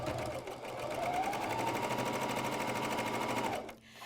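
A MyLock 454D serger runs a seam on a pajama top with a rapid, even mechanical hum and clatter that holds steady for about three and a half seconds, then winds down abruptly.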